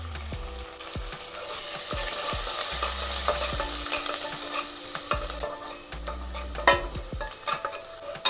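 Onion and turmeric fry in hot tempering oil for dal, a steady close sizzle broken by repeated scraping stirs of a spoon against the pan, with no talking.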